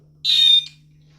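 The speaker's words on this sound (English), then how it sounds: "turn on both your alarms by holding the power button" A Nash Siren RS-1 carp fishing bite alarm gives a single short, high electronic tone of about a third of a second as it switches on, clear and close over a steady low hum.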